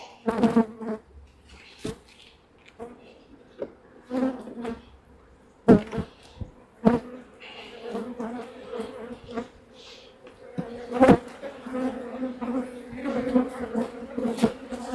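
Steady insect buzzing, like agitated bees, with sharp nearby swoops and bursts passing close, rising and falling over a quieter background hum.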